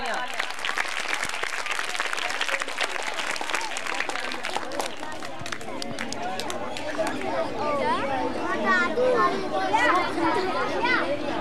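Audience applause for a children's stage performance at an event for flood-affected children, dense clapping that thins into crowd chatter and children's voices.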